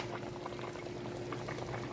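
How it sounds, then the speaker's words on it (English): Water pours into a boiling pot for a spicy peanut boil, a steady bubbling gush lasting the full moment, close and moderately loud. "I'm going to add a little bit more of water in the pot."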